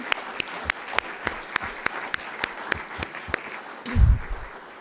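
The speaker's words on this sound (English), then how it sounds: "can we please have a huge round of applause for Dr. Antonio Beza for a phenomenal job emceeing" Clapping at a college science honors and awards ceremony sounds as sharp, evenly spaced claps in a steady rhythm, fairly close. A low thud near the end interrupts it.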